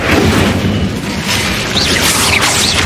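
Loud, dense burst of magical fire and blast effects in the Hogwarts Legacy video game, with booming, crackling energy filling the whole stretch without pause.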